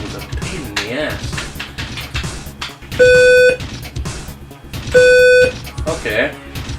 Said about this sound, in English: Pressing the tilde key makes my computer beep at me.